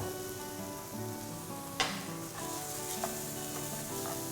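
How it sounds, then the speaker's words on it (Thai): Chinese steamed dumpling filling seasoned with soy sauce, sugar, salt and white pepper is stir-fried in a pan, a quiet, steady sizzle with a few sharp spatula clicks and scrapes. "ผัดจนพอเข้ากันนะครับ"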